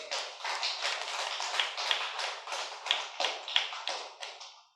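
An audience claps at a talk, a sustained round of applause that rises and falls in waves over several seconds before fading out, heard alone without speech.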